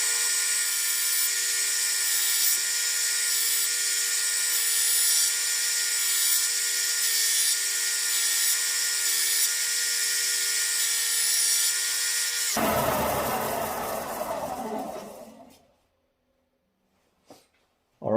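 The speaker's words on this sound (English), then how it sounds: "you just get both of your hands and you just sweep it through and it starts creating the bevel" A steel replica knife blade has a bevel ground onto it by a power grinder. A loud, steady high whine runs for a long stretch, then gives way to rougher grinding that fades to silence, broken by a brief tap.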